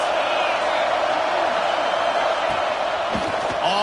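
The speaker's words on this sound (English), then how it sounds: "This crowd trying to make life miserable for this offense." A stadium crowd in a Madden football video game sends up a sustained, loud roar, a dense wash of many voices with brief swells and no pauses.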